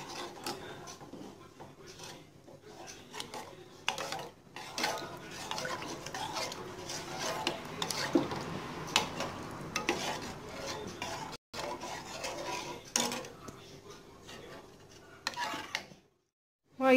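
A spoon stirs béchamel sauce with butter and spices in a pot, giving soft repeated scraping and clinking against the metal over a faint sizzle, close and moderately quiet, ending in a short silence.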